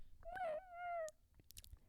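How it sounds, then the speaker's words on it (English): A cat meows in a room, two drawn-out tonal meows close together, the second long and level, followed by a few faint clicks and rustles. "is that your cat in the background on the cat tower?"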